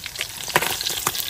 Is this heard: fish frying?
yes